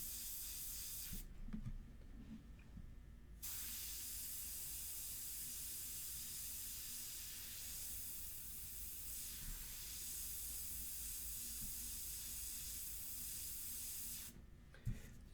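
An airbrush sprays ink onto a portrait painting in a long, steady hiss, with brief louder bursts of air at the start and end and no talk.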